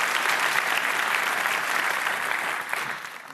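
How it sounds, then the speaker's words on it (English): Steady applause from a conference audience at a business event, dense and continuous clapping throughout that eases slightly near the end, with no voices over it. "One more big round of applause for our sponsors for bringing us here today"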